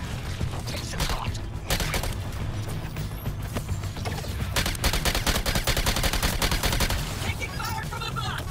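Bursts of gunfire from the video game Suicide Squad: Kill the Justice League, rapid automatic volleys mixed with mechanical clanks, with game voices now and then.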